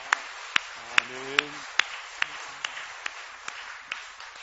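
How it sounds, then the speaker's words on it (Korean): Distinct rhythmic claps ring out at a steady beat in a church as the congregation applauds, each clap sharp and evenly spaced, with a voice briefly sounding over the early claps. "영광의 박수 올려드리겠습니다"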